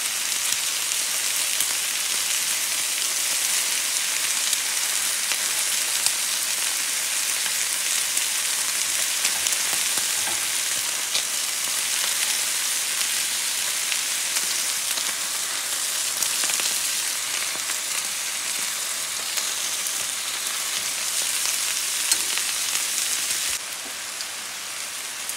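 Pork for adobo frying in a pan, a loud, dense, continuous hiss of sizzling oil that stays steady throughout, close up and alone.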